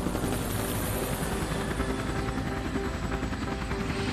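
Cartoon helicopter flying in an animated rescue scene with trucks, a steady loud rotor drone sustained without pause and no talk over it.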